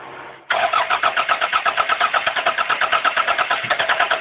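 A car engine cranks briefly, then catches and settles into a steady, loud idle with an even pulsing rhythm, close by with no talk over it.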